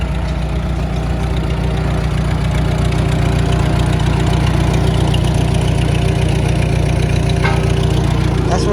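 A McCormick tractor engine drives a long flat belt at a fall tractor show, a loud steady chugging idle with a constant low rumble throughout.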